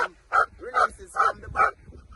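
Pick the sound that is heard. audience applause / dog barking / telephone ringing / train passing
dog barking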